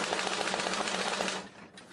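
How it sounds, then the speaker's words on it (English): Rapid mechanical rattling bursts of an old machine gun effect cranked by hand on a vintage sound-effects device, steady fast clatter for about a second and a half, then slowing and fading near the end. "That was an old machine gun."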